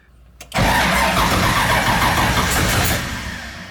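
A Nissan 240SX swapped with an LS3 V8 cranks briefly, then catches and roars into a loud, rough idle nearby that slowly eases down, struggling to start cleanly.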